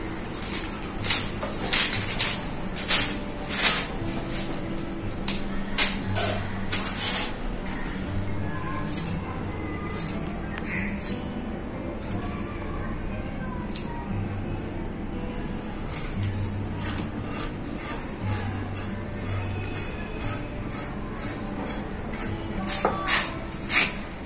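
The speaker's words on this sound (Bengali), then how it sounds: "বিরিয়ানির জন্য সবজিগুলো এক এক করে কেটে নেব।" A knife cuts washed vegetables for biryani, giving a run of sharp, regular taps on a board that thin into scattered clicks over a low background hum.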